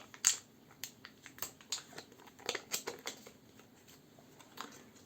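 Crinkling paper wrapper of a brand-new Perma-Sharp double-edge razor blade being unwrapped from a fresh pack, a series of close, light crackles and rustles at uneven intervals.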